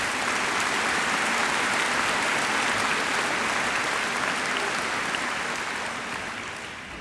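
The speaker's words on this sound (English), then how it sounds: "I'd like to give everybody a round of applause" A large audience at a 2014 college commencement ceremony breaks into sustained, dense applause that stays loud and even throughout, then begins to taper off at the very end.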